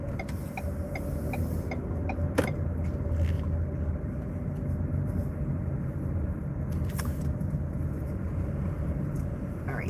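A car engine runs steadily nearby as a low, continuous rumble, with a few brief clicks and knocks on top and no talking.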